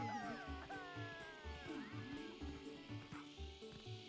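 A dog barking in the video game Zelda: Twilight Princess HD, repeated short yips in a steady rhythm beneath in-game music and someone talking.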